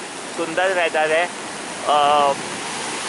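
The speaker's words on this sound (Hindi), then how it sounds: "ये समुंदर में लहरें इस समय थोड़ी ज़्यादा है" Sea waves at Karen Beach on a rainy morning make a steady, broad wash of surf, with someone talking over it in short phrases.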